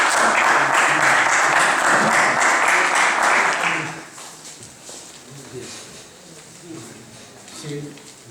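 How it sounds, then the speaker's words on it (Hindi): A crowd at a journalists' federation meeting in Burhanpur gives a loud, dense round of applause for about four seconds, which then stops abruptly, leaving quiet talk and room noise. "स्वागत कीजिए आप लोग तालियों से।"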